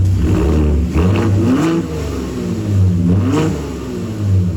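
A Ford EcoBoost V6 engine revs up in a steady, deep rumble, swelling and easing in a few throttle blips with a constant low drone underneath and no voices.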